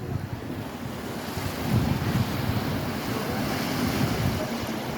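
Surf rolling onto Centre Island Beach with wind buffeting the microphone, a continuous broad roar that swells slightly midway, near and loud, with no talk.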